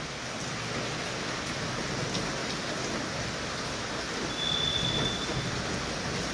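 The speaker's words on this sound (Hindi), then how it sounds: "खासी तेज़ बारिश इस वक्त जम्मू में जो हो रही है" Heavy rain pours steadily in Jammu, a dense, even hiss of falling water with a low rumble underneath, continuous and fairly close with no voices.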